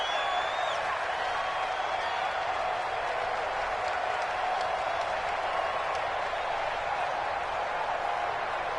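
A stadium crowd in a PS4 football video game keeps up a sustained roar of cheering and applause, a dense steady wash of noise that stays loud and even throughout.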